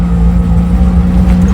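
A vehicle engine runs loud and close with a strong steady low hum and rumble, no clear start or rev heard, lasting the whole brief moment.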